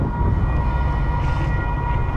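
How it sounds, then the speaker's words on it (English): A train rumbles past a railway crossing in a loud, steady wash of noise, with a faint tonal ringing from the crossing signal layered over it. "The railway crossing bells are ringing, meaning a train is blocking the rest of your ride to work."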